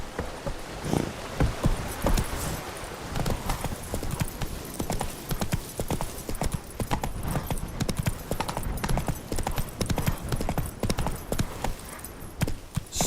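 Roach the horse galloping in The Witcher 3: Blood and Wine, a loud, continuous, rapid drumming of hooves close up, with little else over it.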